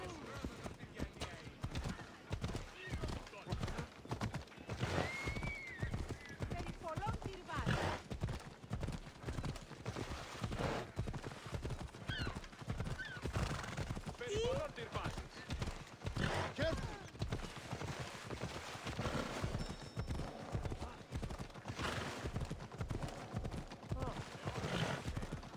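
Rapid hoofbeats of a horse galloping in Assassin's Creed Odyssey, a steady clip-clop rhythm running throughout with occasional whinnies, mixed with game sounds and talk over the top.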